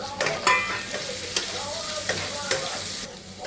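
Cashews and raisins fry lightly in a pan, with a steady close sizzle broken by a handful of sharp spatula strokes spaced about half a second apart.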